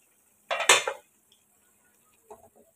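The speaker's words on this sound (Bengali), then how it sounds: "এখন ঢাকাটা উঠে দেখি কি অবস্থা" A metal lid lifted off a cooking pot of raw banana and hilsa fish curry: one short, close clatter of metal, followed after a pause by a couple of fainter clinks.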